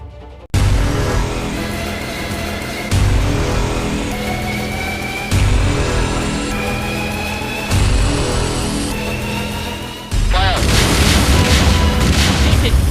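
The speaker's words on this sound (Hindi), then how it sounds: "कितना जबरदस्त विस्फोट इस समय यहां पे हो रहा है।" Several heavy booming blasts from bombardment of militant hideouts, about one every two to three seconds, each hitting loud and rolling into a sustained rumble, with a denser, harsher burst near the end.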